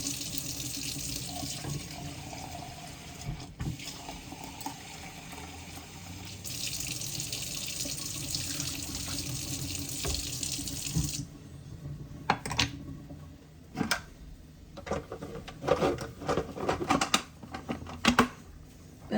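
Water trickles from a tap into a pot or sink while Jaffna-style curry is cooked, a steady close splashing flow for about eleven seconds that stops, followed by scattered clinks and small kitchen knocks.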